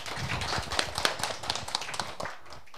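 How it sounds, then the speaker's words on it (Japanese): A small audience at a lecture on information design claps in a short, loose burst of individual hand claps, moderately near, tapering off toward the end. "拍手。"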